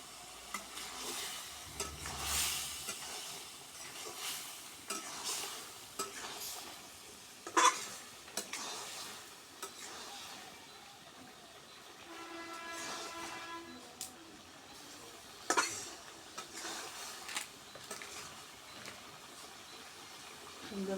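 Egg malai curry with tomato being sautéed in a pan, a low simmering sizzle under occasional spoon scrapes and clanks against the pan, fairly quiet and continuous for about twenty seconds.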